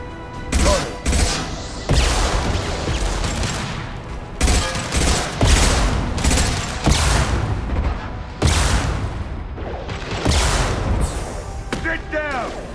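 Repeated bursts of gunfire and booming impacts from a Mass Effect 2 battle, loud and close, arriving in clustered volleys with brief gaps, while voices call out between shots.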